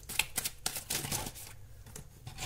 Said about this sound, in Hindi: चलिए मैं कार्ड्स निकाल देती हूँ।